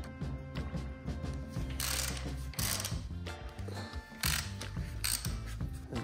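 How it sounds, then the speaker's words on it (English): A ratchet undoing nuts on the rocker assembly of a VW Beetle engine, with quick rhythmic clicking bursts and metallic clanks of parts being handled, close up, no voices. "now we have to undo two nuts over here to take off the rockers"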